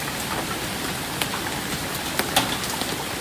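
Hailstones fall during a Kansas hailstorm, a constant hissing patter with a few sharper clicks and taps as larger stones strike nearby, and no voices.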